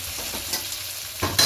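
Chicken pieces frying in oil with ground spices, a steady low sizzle with a few soft stirring scrapes, then a louder scrape and sizzle burst near the end, close and brief.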